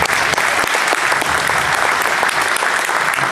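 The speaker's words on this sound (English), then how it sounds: "How about a round of applause?" An audience at a basketball coaching clinic gives a round of applause, dense continuous clapping from many hands, loud and close throughout.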